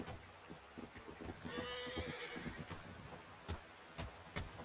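A horse in a western video game gives a clear whinny, with soft hoof clip-clops around it, all fairly quiet against low background noise.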